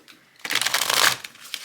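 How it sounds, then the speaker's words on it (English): A deck of tarot cards is shuffled close by, one brisk riffling burst of fluttering card edges lasting about a second. "right now we're gonna shuffle some cards from this other tarot deck that I have."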